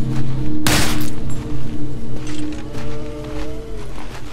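Gunfire from a horror shooter video game in the style of Resident Evil, a loud burst of shots up front followed by continuous game audio with tonal drones and scattered impacts.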